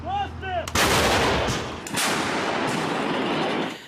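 A heavy boom from a Ukrainian 155 mm Bohdana self-propelled howitzer firing, loud and close, followed by a second blast and a long rumbling tail.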